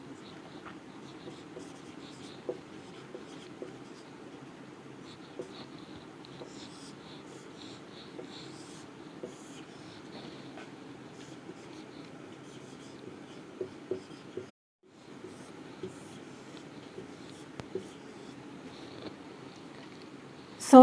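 Pen strokes drawing boxes for balancing chemical equations make a steady, soft scratching with small taps, continuous and close, with a brief pause partway through and no talking.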